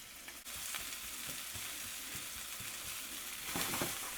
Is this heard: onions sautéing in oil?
yes